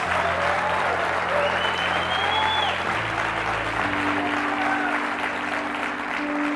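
A church congregation applauds in sustained, dense clapping during a sermon, loud and continuous throughout, with a faint tone and background sounds underneath.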